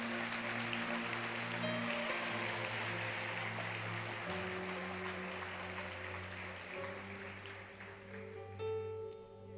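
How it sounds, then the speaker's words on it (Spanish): A church congregation claps steadily for the whole stretch, a broad, even patter of many hands under sustained organ or keyboard chords that shift pitch now and then. "Aplauda a Dios que está en este lugar"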